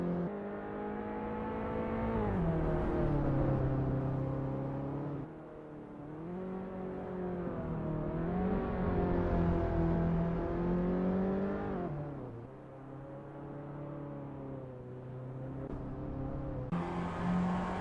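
Reliant Supervan engine in Assetto Corsa, driven gently on an outlap at Deepforest Raceway: a continuous buzzing engine note rising and falling with each gear change and throttle lift, loud and close with no voices.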